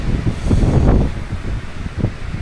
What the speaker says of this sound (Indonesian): Dan anginnya tiba-tiba kencang banget.